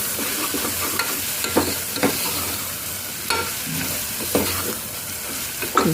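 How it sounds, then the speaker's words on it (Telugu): Snails cooking in hot oil with turmeric as a curry, stirred in a pan: a constant loud sizzle with regular scraping strokes of a spoon, close up and without any talking. "ఇలా మగ్గుతున్నప్పుడు దీనికి సరిపోయినంత పసుపు మనం వేసి మంచిగా మిక్స్ చేయాలండి"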